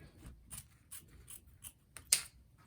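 Scissors cutting ribbon for a Christmas tree topper bow made on an EZ bow maker, a series of soft close snips in an uneven rhythm, ending with one sharper louder cut.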